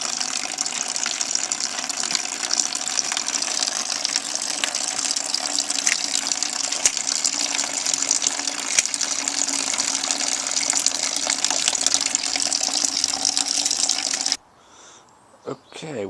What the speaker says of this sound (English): racking off now, using a sophisticated piece of siphoning equipment. A plastic tube.